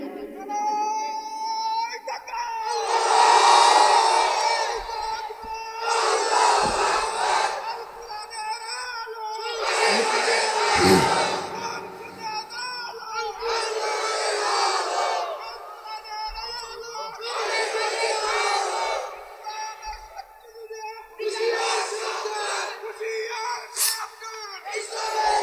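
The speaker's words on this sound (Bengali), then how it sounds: "দেন তাকবীর দেন দেখি" A large crowd at a religious gathering in Rangpur roars the takbir chant in about seven loud, rhythmic surges, each swelling shout separated by brief lulls.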